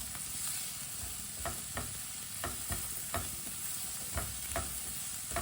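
Vegetables being stirred with salt and turmeric in a hot pan for aloo tikki, a steady sizzle of frying underneath repeated scraping strokes of the spoon at an even rhythm, close by with no talking.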